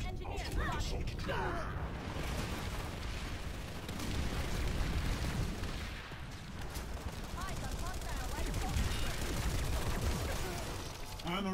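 Frag grenade blast and sustained gunfire from a video game battle, a dense continuous roar of shots and explosions with voices talking under the chaos.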